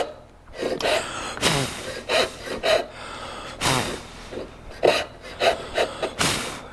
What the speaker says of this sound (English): Instead of sawing through your line, you're sawing beside the line.